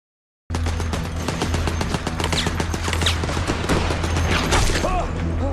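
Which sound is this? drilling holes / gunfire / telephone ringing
gunfire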